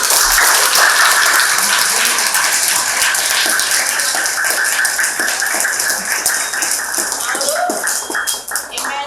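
An indoor audience at a charity event handing out sweets and soft toys to disabled children breaks into loud, dense, sustained applause that fills the room and slowly thins toward the end.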